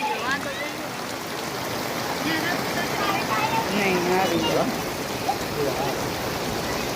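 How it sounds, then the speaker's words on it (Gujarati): Fresh water rushes steadily along a village stream in Dungarpur near Junagadh, a constant gurgling wash, while voices talk faintly over it in the background. "કેટલું ફ્રેશ જાય પાણી જુઓ"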